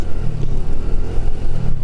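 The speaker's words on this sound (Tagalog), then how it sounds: "Kung maingay ba yung tunog ng motor" A motorcycle engine runs steadily outdoors with a loud, continuous low rumble and slight fluctuations in throttle, heard close up with no talking.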